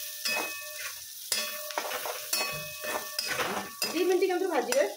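Onions frying in a pan, a bright sizzle under repeated spatula scrapes and clinks against the pan, close up, with a bit of voice-like tonal sound near the end.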